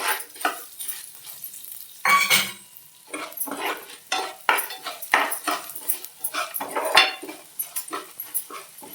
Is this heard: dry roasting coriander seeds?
yes